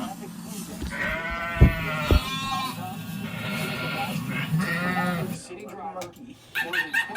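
A person imitates a sheep bleating, giving wavering, drawn-out baa calls mixed in with ordinary speech, with a couple of sharp thumps and a brief quieter pause near the end.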